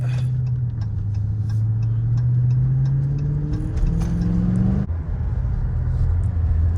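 A Dodge Charger Scat Pack Last Call engine drones steadily while driving, a deep continuous rumble that rises gradually in pitch as it accelerates, then drops sharply after a shift and settles into a lower hum.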